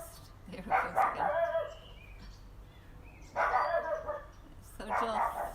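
A dog barking outdoors in bursts of several quick barks, pausing between volleys, moderately distant and fairly loud against quiet morning ambience with faint birds.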